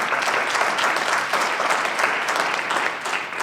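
Audience at an African American Leadership Academy reception clapping after a speech, a dense, lively wash of applause, fairly close and steady, easing slightly toward the end.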